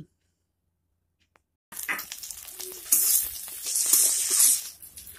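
Green chillies and spices stir-fried in a pan for masoor dal: after a quiet opening, loud, close sizzling bursts in and keeps crackling and hissing, rising in waves as the pan is stirred.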